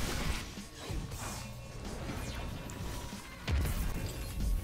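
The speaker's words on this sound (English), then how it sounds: "Massive chain explosion, yep." A massive chain explosion in the video game Destiny 2, heavy crashing booms with a hard burst near the end, sounding fairly close.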